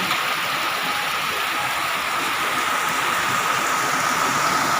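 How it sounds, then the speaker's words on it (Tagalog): Dense, steady roar of heavy rain, loud and unbroken, with no voices. "Grabe, lakas ang ulan, no?"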